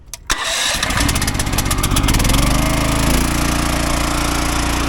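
An Eastonmade 12-22 log splitter engine cranks with a short burst of rapid chugging, catches and settles into a loud, steady close-up idle.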